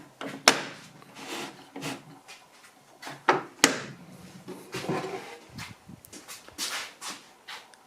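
Plywood platform built from several pieces being pushed down over a table saw fence in a tight fit: a series of sharp wooden knocks and scuffs, close and uneven, with quieter shuffling between.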